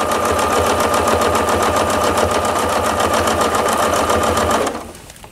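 Sewing machine stitching along a quilting ruler on a table runner, a steady fast mechanical whir running loud and close for several seconds before stopping abruptly.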